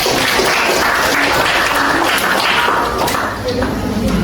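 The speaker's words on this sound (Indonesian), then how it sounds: "beri aplaus kepada kelompok" A classroom applauds a group with loud, dense clapping that carries on for several seconds before easing slightly near the end, mixed with some voices.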